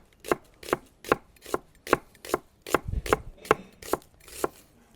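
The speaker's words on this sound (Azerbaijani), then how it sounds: "İndi soğanı doğrayaq. Soğanı halqa-halqa doğrasaq yaxşı olar" A knife chops an onion into thin rings on a cutting board for a cherry summer salad, giving about eleven evenly spaced, crisp, close knocks with a short busier flurry in the middle.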